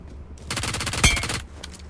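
Long-range gunfire in PUBG Mobile: a fast automatic burst of a dozen or so sharp shots lasting about a second, with one louder crack in the middle and a few faint shots trailing after.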